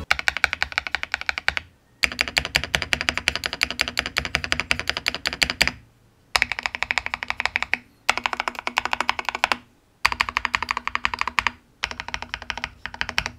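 Rapid typing on an IQUNIX F97 mechanical keyboard with months of use and unmodified stabilizers: close, crisp clacking in dense bursts broken by short pauses, with no voices.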